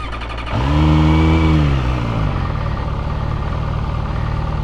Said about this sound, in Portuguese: vamos sentir aqui o barulho dessa moto